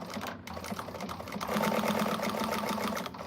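A sewing machine stitches around the curve of a bag lining in a quick, continuous chatter of needle strokes, close and steady, slightly louder midway through.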